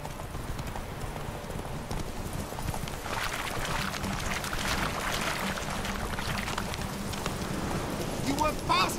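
Geralt's horse Roach galloping in The Witcher video game, a fast, continuous clip-clop of hooves under game music and effects, with a voice speaking over it.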